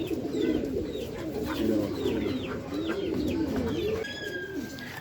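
Racing pigeons coo continuously at the loft on a derby race day, overlapping throaty calls close up, with thin high chirps above and a faint steady tone.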